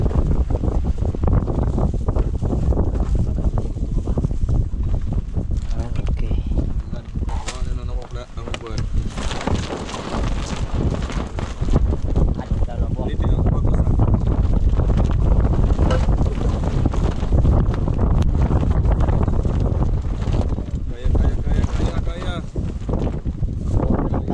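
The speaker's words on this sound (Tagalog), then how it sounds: "unti-unting lumalakas yung hangin at saka ulan. At sa ayan na nga, binagyo kami" A storm strikes a motocamping spot at Navaja Heights in Toledo, Cebu, with loud, constant wind roaring and buffeting the microphone in heavy gusts, masking any rain, and a few voices faintly under it.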